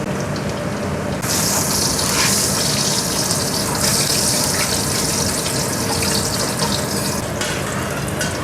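Water pours and gushes steadily over ingredients set to soak in a home kitchen, a loud continuous splashing rush with a sizzling, hissing texture that starts abruptly after a quieter moment and runs throughout.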